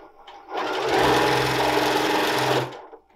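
A Janome Continental sewing machine whirs up to high speed for about two seconds, a steady fast mechanical buzz, then winds down and stops.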